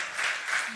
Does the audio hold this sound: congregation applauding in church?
yes